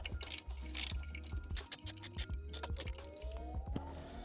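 A ratchet clicks in quick bursts while loosening bolts on a panel of a supercharged L322 Range Rover, close and crisp, with a rising whir as a bolt spins free and mechanical clatter between strokes.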